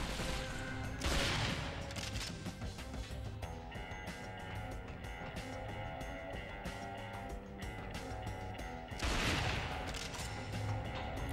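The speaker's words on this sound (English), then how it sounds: "I am firing off a sniper rifle" Sniper rifle fire in the shooter 007 Nightfire, with two strong blasts several seconds apart standing out over a busy bed of game noise and scattered gunfire, loud and near.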